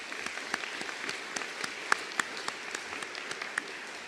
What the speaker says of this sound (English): let's give that group a round of applause